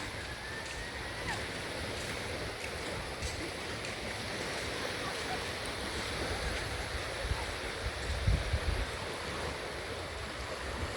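Waves wash steadily onto Ha Pak Nai Beach at high tide as rain approaches, a constant soft roar of surf with some wind rumble on the microphone, fairly faint and unbroken throughout.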